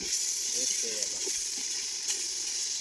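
Garlic paste fries in a pan while an egg thooku dish is cooked, giving a steady, soft sizzling hiss with faint stirring scrapes, and a voice speaks quietly underneath.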